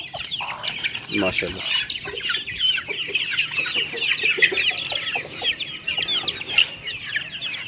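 Chickens clucking and pecking at food in the summer heat, busy overlapping clucks and scratchy bursts near the microphone, with a brief spoken word from a man.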